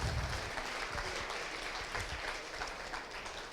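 Applause fills a hall at a hackathon award ceremony, steady dense clapping from a seated crowd throughout, fairly even and moderately loud.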